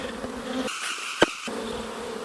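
Honey bees buzz loudly at an open hive during frame work, a dense close swarm drone with a brief sharp knock partway through and no speech.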